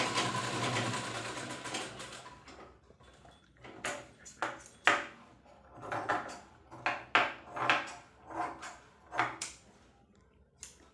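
Foot-operated treadle sewing machine with no motor fitted, stitching a blouse: after an opening stretch of hiss, a quick run of rhythmic mechanical clacks and whirring bursts repeats close by, with no talk.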